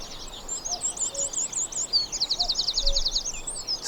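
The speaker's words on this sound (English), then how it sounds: "Skylarks." Skylarks sing on the windswept Donegal coast: a steady stream of high, rapid warbling trills, fairly close and continuous, with a few faint lower whistled notes in the background.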